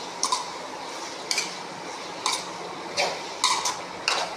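Tomatoes tipped into a pan of crab gravy base and stirred, with a soft steady frying hiss broken by several sharp clinks of a spoon against the pan, fairly close and without voices.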